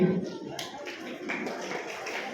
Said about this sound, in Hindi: पर उनके लिए तालियां बजा दीजिए।